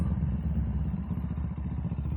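Many motorcycles in a crowded parking area, their engines idling and rumbling in a steady, close, fairly loud low drone with faint clatter, no talk over it.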